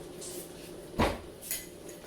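A kitchen cupboard rattles, then a clear metallic clank of a pot lid being lifted, followed by a lighter clink.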